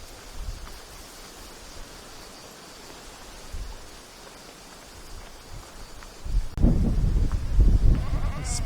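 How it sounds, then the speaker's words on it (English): Goats or sheep bleat a few times in the distance over a steady outdoor hiss on a hiking footpath on the Greek island of Kea, then a louder, closer bleating call rises near the end. "I can hear goats or sheep"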